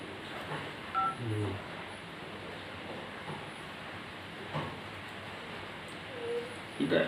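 A telephone number is dialed, producing a few short separate keypad tones spaced irregularly across several seconds, faint over a quiet background hiss.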